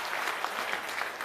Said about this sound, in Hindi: एक बार हमारे मातृशक्ति के लिए भी जोरदार तालियों से स्वागत किया जाए।